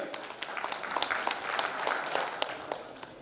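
Audience applause for a panel at a digital transformation conference in Guwahati: dense, even clapping from a crowd filling the room, with a few sharper nearby claps standing out.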